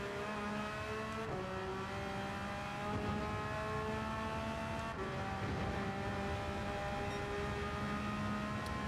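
Porsche race car engine in Gran Turismo 7, a steady high-pitched whine rising through the revs with a couple of gear shifts, close and continuous without any talking.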